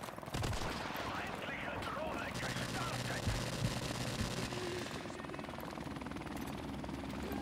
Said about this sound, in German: Feindliche Drohne.